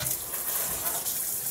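Water runs from a tap over a dog being soaked for a bath, a constant near splashing rush with no talking.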